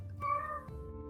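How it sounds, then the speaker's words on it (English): A house cat gives a single drawn-out meow, close and clear, lasting about half a second over a low room hum, with no talking around it. "That's my cat."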